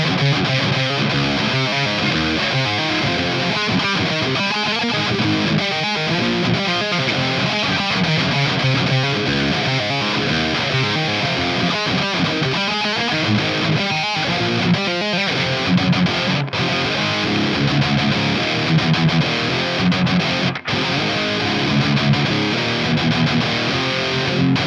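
A loud, continuous distorted electric guitar plays riffs and chords through a Human Plexcalibur pedal with its boost on, a thick, saturated Plexi-style tone, with no talking.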